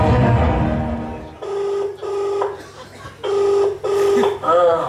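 A telephone rings out in repeated steady electronic tones, several bursts with short gaps, in a Malayalam comedy skit spoofing a quiz show's phone-a-friend round; a voice talks over the opening moments.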